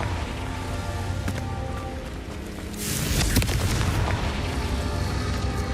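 Confringo fire spell cast in Hogwarts Legacy, a loud crackling burst that swells midway into a dense, sustained explosive rumble with sharp impacts over a busy game soundscape.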